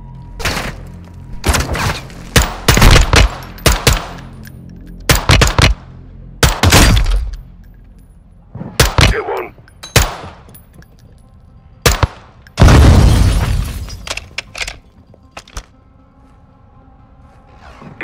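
Gunfire in Call of Duty: Modern Warfare 2 (2022) comes in sharp, separate bursts and single loud cracks spread across the scene, with gaps of quiet between them and one longer, heavier roaring volley near the end.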